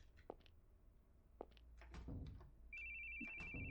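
A cell phone rings inside a video game, a steady electronic ringtone that starts partway through and holds loud to the end, after scattered thumps and game sounds.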